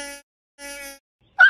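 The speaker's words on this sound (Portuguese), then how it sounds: "Abelha!" Bee buzzing in short tonal bursts, two even humming passes separated by silence and ending in a sharper, louder buzz, close to the ear.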